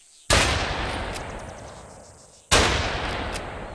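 Two loud gunshots in the video game Fallen Earth, fired at a crate, each a sharp crack followed by a long decaying echo, spaced about two seconds apart with no talk.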